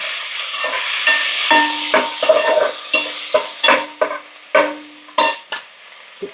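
Coriander and mint frying in a chicken biryani pan, with repeated scraping stirs and bursts of sizzle rising and falling in a steady rhythm, close and fairly loud with no talking.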